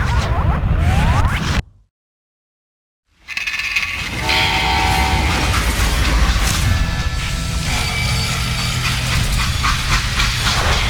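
Steam train in the Western shooter game Call of Juarez: Gunslinger, a loud rumbling, hissing rail noise that cuts to silence for over a second, then resumes with clanking and a whistle-like tone.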